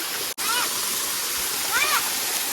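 A waterfall at Paloor Kotta in Kerala gives a steady, close, full-bodied rush of falling water, with a few short chirps rising faintly above the roar.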